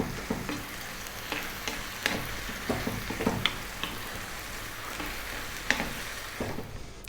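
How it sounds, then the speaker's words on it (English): A small sauce with cilantro bubbling and sizzling in a pan for a Mexican-style broccoli cheesebake, stirred almost constantly, with occasional light utensil scrapes over a steady low fry and no speech. "We're going to go just for 3 more minutes, stirring pretty much all the time, and this little sauce is ready."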